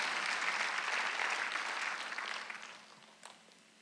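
A church congregation at a Korean Sunday worship service claps together in a full, sustained burst of applause that gradually thins and fades out.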